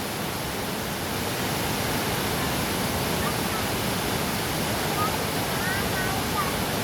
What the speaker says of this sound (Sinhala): ගල්දලාව පුරවල වතුර පාර එනවා පහළට